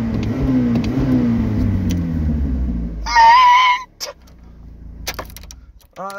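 A car engine runs rough and rumbly as it revs, heard through an open window, then quiets and fades to low idle noise amid a few short clicks and a brief tonal beep.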